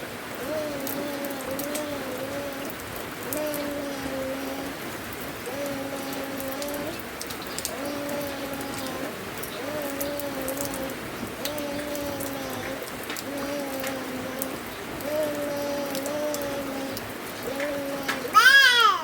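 Steady morning rain falls outdoors as a constant soft hiss, while a repeating tonal sound and faint voices sit underneath throughout.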